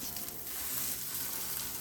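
Maple breakfast sausage sizzles as it browns in a pan, a steady soft crackling hiss, fairly quiet and uninterrupted.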